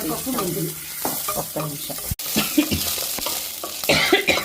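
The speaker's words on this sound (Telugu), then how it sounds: "మినపప్పు పచ్చిమిర్చి మెంతులు వేసి వేయిస్తుంది అనమాట" Urad dal, green chillies and fenugreek seeds sizzle loudly in hot oil for a tempering, with frequent spoon scrapes and clinks against the pan; a voice speaks briefly over the crackle.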